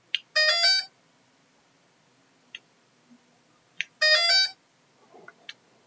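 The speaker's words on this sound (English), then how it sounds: "You can hear the motor beeps." A drone's ESCs chirp motor startup beeps: two quick bursts of shrill tonal tones, each followed by single short bleeps, close and clear in a quiet room.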